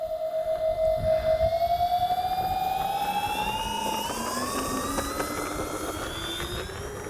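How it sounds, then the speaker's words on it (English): Twin-engine RC Twin Otter model plane (1600 mm Avios) taking off with flaps set: a steady electric propeller whine rising in pitch as the motors spool up and the aircraft lifts away, with no talk. "I'm going to just take off without trying not to use any elevator"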